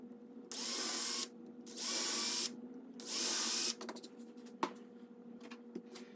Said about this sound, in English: now we're able to come back and pre-drill those holes